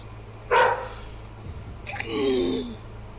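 Dog in the video game Vampyr gives a sharp bark, then a second bark that trails into a whining tone, over a low steady game background hum.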